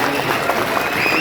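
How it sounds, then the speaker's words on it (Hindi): Loud applause from a classroom of students welcoming two visiting former students, a brief dense burst of clapping close by, with some voices mixed in. "एक बार जोरदार तालियों के साथ वो भाइयों का स्वागत किया।"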